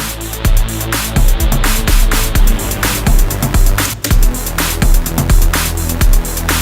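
Loud rhythmic music with regular punchy hits, each trailing off into a spacious reverb tail, as if played in a big room.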